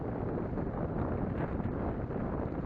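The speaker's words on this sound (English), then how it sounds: "It is a little breezy out" Breezy outdoor wind buffets a microphone during a DJI Phantom 3 Standard drone distance flight, making a steady low rumble and roar for a few seconds with no talking.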